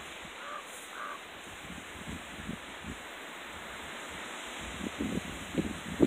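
Crows cawing outdoors with wind blowing ahead of an approaching dust storm, scattered harsh caws at middle distance over a steady rush of wind noise.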